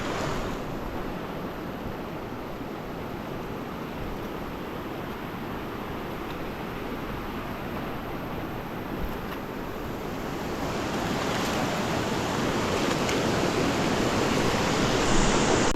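River water rushes steadily after upstream rain, a loud broadband roar of flowing water that swells slightly stronger toward the end, with no talk.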